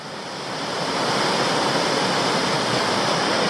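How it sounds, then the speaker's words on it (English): Clear water pours down a long run of sloping rock cascades at Meander Falls, Tasmania, a steady, broad rushing roar that swells in and holds constant with no voices. "There's a bunch of cascades basically, and it's just sloping and sloping all the way down there"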